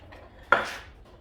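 A bonsai pot being handled, giving one sharp ceramic clunk as it is set down or knocked, ringing briefly before fading, with faint softer touches before and after.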